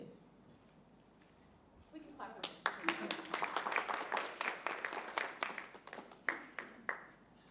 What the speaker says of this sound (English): We can clap.